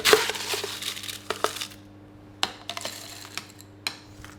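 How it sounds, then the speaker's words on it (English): Crushed ice clatters and rattles into a cocktail glass in a burst of clinks and crunches, followed by several sharper scattered clinks of ice settling, close and fairly loud with no talking. "Put your crushed ice in your glass."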